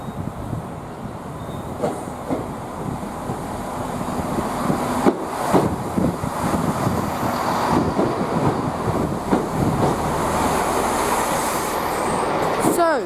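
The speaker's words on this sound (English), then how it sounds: "Fast IET, bound for Swansea." A fast IET express bound for Swansea roars through Didcot Parkway station, a loud, sustained rumble with rhythmic wheel clatter and rushing air building as it passes close by.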